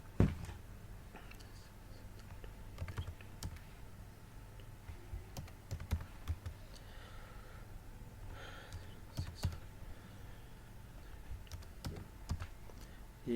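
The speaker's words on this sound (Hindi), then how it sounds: "ये जैसे कोड हमने जो हमें रिसीव हुआ था हमने टाइप किया" A verification code is entered on a computer keyboard, with soft, scattered keystrokes and clicks at an uneven pace over a quiet room background, no voices.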